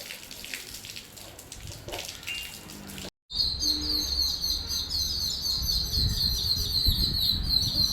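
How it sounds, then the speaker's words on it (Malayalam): Many birds chirp in a busy, continuous chorus, rising clearly after a brief gap, with running water splashing underneath. "കുറേ കിളികൾ"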